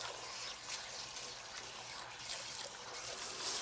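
Lukewarm water running over a hair topper wig during rinsing, a steady close hiss of flowing water, constant and fairly faint, with no voices.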